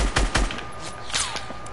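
Sharp gunshots from a sniper rifle in a video game, a few quick reports close together at the start followed by fainter shots and a whizzing sweep, with no talking.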